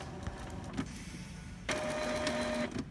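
Epson L-series inkjet printer (such as L210 or L3110) running a head cleaning cycle, with a steady mechanical whir that starts midway, a faint tonal hum, and small clicks and motor shifts close by.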